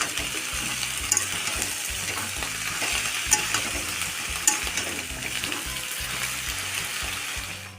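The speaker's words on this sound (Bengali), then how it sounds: "সবজিগুলো একটু লাল লাল করে ভেজে নেব।" Chopped vegetables for a spinach curry fry in a pan, producing a constant loud sizzle with scraping stirs and clatters breaking through, and no voices over it.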